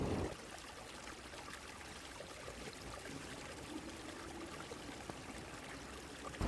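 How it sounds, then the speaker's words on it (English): A calm, clean stream flows through the heart of Seoul near Gwanghwamun, a steady, soft rush of running water that holds evenly throughout with faint city ambience beneath. "A stream this clean, this calm, right in the heart of the city."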